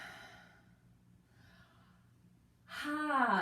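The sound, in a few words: big yawn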